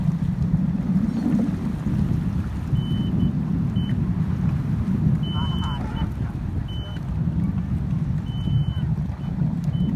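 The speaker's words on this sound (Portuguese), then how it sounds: "Não tá acelerado o motor, Pedro?" A boat's motor idles near a harbor breakwater on a boat with a dead battery, giving a steady low rumble under wind noise, with faint intermittent beeping tones above it and voices talking in the background.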